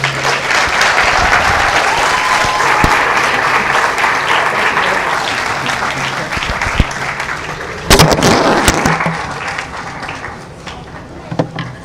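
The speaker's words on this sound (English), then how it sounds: "Another round of applause for him, please." A large crowd at a university business club summit applauds loudly and continuously, a dense wash of clapping with a few sharper bursts near the end as it tapers off.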